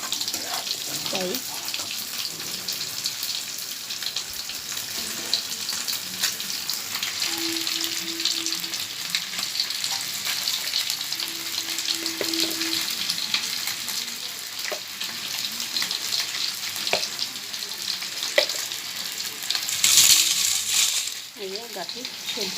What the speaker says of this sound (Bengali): এই যে গাঠি সেদ্ধ করা মাছ ভাজা হচ্ছে।